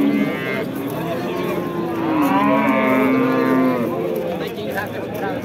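A cow at a livestock bazaar in Baliqchi, Andijan, lets out a long, loud, wavering moo close by, with crowd chatter and market noise around it.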